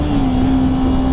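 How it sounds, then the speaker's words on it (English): A Kawasaki Ninja 300 SE motorcycle engine holds a loud, steady high-pitched rev close by for a brief moment, with no talking. "Oh, it revs pretty well."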